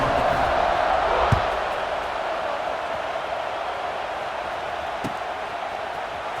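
Crowd cheering after an extra point in EA Sports College Football 26: a dense, steady roar of stadium noise that swells briefly near the start, then settles into a constant wash, with a couple of faint thumps underneath.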